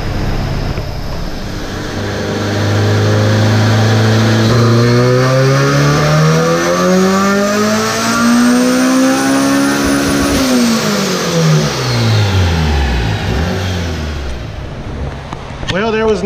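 A boosted car engine on a dyno is revved through a full pull, climbing steadily in pitch to a loud peak before dropping off as the throttle closes, close and dominant throughout.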